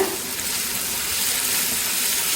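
Masala with broken green chili sautéing in a pan for mutton curry, a continuous close hissing sizzle at steady loudness with no talking.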